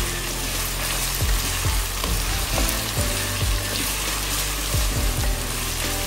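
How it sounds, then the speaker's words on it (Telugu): Ivy gourd frying in a generous amount of oil, a steady close sizzle with repeated clattering stirs of the pieces throughout. "దొండకాయ ఫ్రై 2 రోజులు ఉండాలని కొంచెం ఆయిల్ ఎక్కువ వేసానండి"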